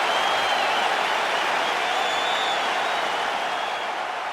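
Capacity arena crowd at a UFC 300 lightweight championship bout, roaring and applauding steadily as a fighter steps into the octagon; a dense, continuous wash of cheering and clapping throughout.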